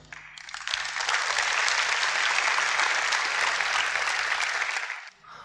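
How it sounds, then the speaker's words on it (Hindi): A large indoor audience at a motivational talk bursts into sustained applause, loud, dense clapping rising quickly and holding steady for several seconds before fading out, with no speech. "आप लोगों ने मेरे लिए बहुत तालियां बजाई।"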